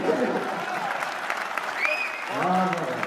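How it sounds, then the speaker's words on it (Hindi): Scattered applause from an audience at a Hindi-Urdu poetry recital, a thin, moderate patter of clapping under a reverberant hall with a voice rising near the end. "कमजोर ताली आई है"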